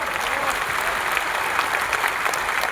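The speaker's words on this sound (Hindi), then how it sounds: "एक बार ताली बजा दीजिए सभी लोग" An audience at an RCM business seminar applauds, a dense, even stretch of clapping from many hands that holds steady at a moderate level with no talking.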